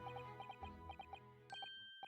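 Small bells ring out in the Great Ace Attorney Chronicles video game, several light, bright chimes in quick clusters over quiet background music.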